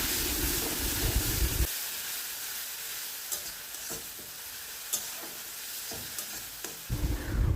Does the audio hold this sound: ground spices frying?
yes